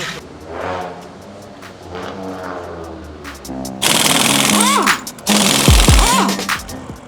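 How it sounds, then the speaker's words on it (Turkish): A Peugeot 106 GTI is raised with a car jack in a parking area, giving a series of loud mechanical ratcheting and whirring bursts with rising and falling tones, while someone talks beforehand. "Kaldırayım arabayı abi biraz."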